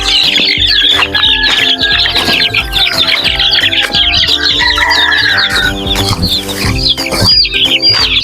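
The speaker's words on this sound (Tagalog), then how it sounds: "Kasi nagsiksika na yung mga sisiw natin mga idol." Young chicks crowding together in a poultry pen, a dense, continuous chorus of high cheeping and peeping close by, with scattered louder chirps over shuffling and rustling underneath, no talking.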